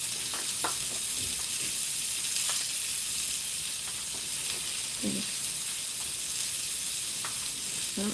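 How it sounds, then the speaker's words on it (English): Chicken sears in a hot pan, giving a steady close sizzle and hiss with occasional light clinks and stirring scrapes, and no talking over it. "Just a little sear going on there."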